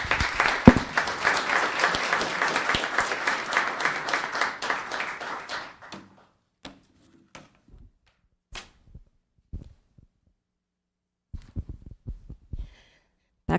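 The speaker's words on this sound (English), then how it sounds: "So let's give them all a round of applause." An audience at a Los Gatos town council meeting claps loudly for about six seconds, the applause dense and sustained before thinning to a few scattered claps and soft knocks in a quiet room.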